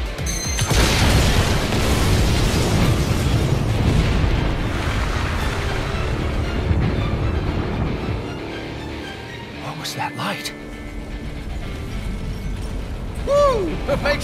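Explosions tear through a town in the video game No More Heroes 3, a loud, sustained booming rumble that fills the first half and then eases into a lower, steadier roar with a few sharper bursts near the end.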